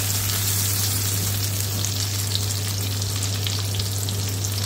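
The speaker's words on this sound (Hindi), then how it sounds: "थोड़ा सा जीरा डालूंगा, तो मैं सौटे कर लूंगा।" Onion and cumin sautéing in a pan for restaurant-style dal tadka, a loud, dense, continuous sizzle close up with a low steady hum beneath, no talking.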